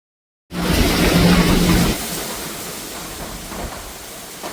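Heavy storm rain roars as a loud, dense broadband wash, strongest in the first second and a half, then settling to a steady, slightly softer downpour with no talking.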